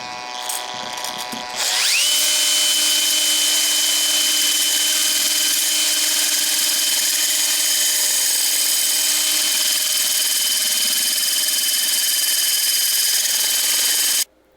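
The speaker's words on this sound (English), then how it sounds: "I had to put the drill in reverse to be able to cut into this thing because the cutting wheel wasn't working good going clockwise" A drill fitted with a cutting wheel, run in reverse, grinds into a part for a homemade Batman Tumbler model, a loud steady high-pitched whine holding for over ten seconds after spinning up, then stopping abruptly.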